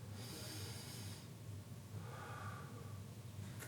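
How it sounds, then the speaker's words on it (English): A long, audible breath is drawn in and then released during a yoga class shoulder stretch, close and soft, with a hissy inhale followed by a slower, breathy exhale and no talking. "Take a deep breath in and out."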